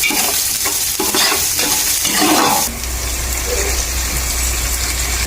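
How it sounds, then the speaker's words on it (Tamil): Onions sauté in a pan for chicken curry until golden, a loud steady sizzle with stirring scrapes in the first half, then an even frying hiss with a low hum beneath, no talk. "வெங்காயம் நல்லா பொன்னீரமாக வர வரைக்கும் லைட்டாக வதக்கிடணும்"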